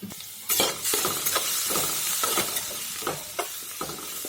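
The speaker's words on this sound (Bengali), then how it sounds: "রসুনগুলো ভালো করে ভেজে নেব" Garlic frying in oil for mango pickle makes a loud, close sizzle, broken by regular spatula scrapes and clacks as it is stirred. No one speaks.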